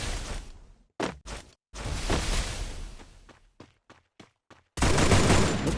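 Gunfire in the Free Fire video game during a one-on-one match: loud bursts of shots and rapid fire, with short gaps between volleys and a dense sustained burst near the end.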